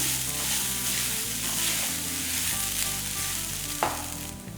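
Continuous sizzling and frying from grated coconut being stirred in a pan, with soft music playing underneath.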